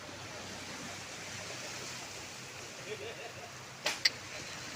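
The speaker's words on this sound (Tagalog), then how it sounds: "Wow, laki ng alon." Big sea waves wash in a steady broadband roar near a rocky shore, continuous and fairly soft, with a couple of brief sharp knocks toward the end.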